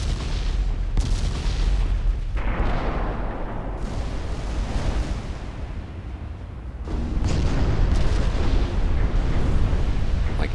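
Warship big guns firing in a naval battle in the video game Ultimate Admiral Dreadnoughts: heavy overlapping booms rolling into a continuous low rumble that swells louder near the end, with no speech.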